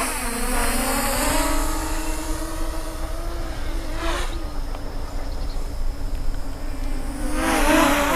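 The brushless 1806 motors of an MJX Bugs 8 racing quadcopter buzz with a steady whine that rises and falls in pitch, close and fairly loud, with no talk.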